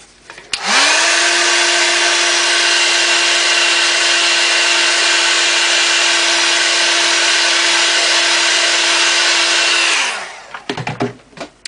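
An electric heat tool blows a steady, loud whirring hum while drying ink on an altered craft butterfly piece, starting abruptly, holding an even pitch for about nine seconds, then winding down with a falling tone.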